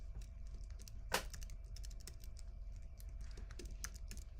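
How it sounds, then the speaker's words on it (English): A password is typed on a computer keyboard during a test administration login: a quick, steady run of light keystrokes with one louder key hit, over a low constant hum. "hopefully I've typed my password correctly"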